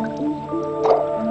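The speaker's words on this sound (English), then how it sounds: "Drip irrigation allows for small quantities of water to be administered at frequent intervals" Water drips and squishes from a drip irrigation line, a few soft wet drops and gurgles close by with no voices.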